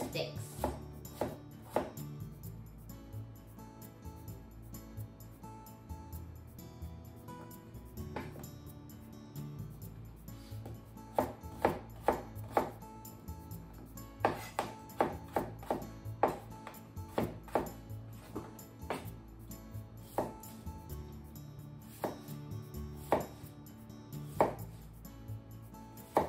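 A kitchen knife strikes a cutting board in quick, uneven bursts of sharp taps while vegetables are sliced and then cut into sticks, close and fairly crisp, with short pauses between runs.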